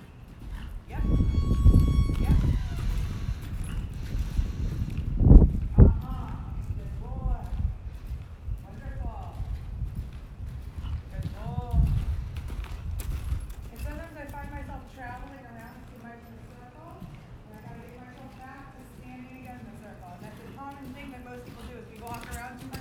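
A horse moves around on a lunge line during a lunging session, with rhythmic hoof falls heard under spoken instructions and praise to the horse, the talk dominating and the footfalls soft in the background.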